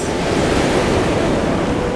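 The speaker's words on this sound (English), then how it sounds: "Big wave coming in right now, rolling." Surf waves rolling in on a beach while fishing for surf perch, a loud continuous rushing roar of breaking water with wind buffeting the microphone, and no talking.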